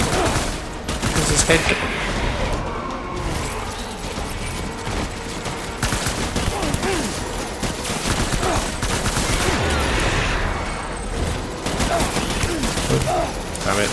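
Sustained gunfire in the video game Death Stranding, dense rapid bursts and booms filling the scene continuously, with someone speaking briefly over the shooting.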